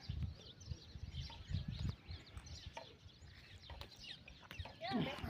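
Pigeons come to eat grain scattered in a village yard. Soft, low cooing and clucking bird sounds and occasional flutters mix with steady outdoor background noise, moderately close and fairly quiet.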